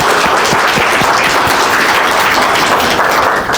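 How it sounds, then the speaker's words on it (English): An audience at a lecture on slavery and human trafficking in the Viking Age breaks into a big round of applause: dense, sustained clapping from many hands, loud and continuous throughout, easing slightly at the end. "A big round of applause."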